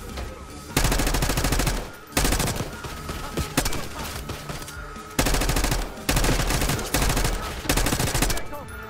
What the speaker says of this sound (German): Kann man ruhig auch mal ein bisschen kräftiger schießen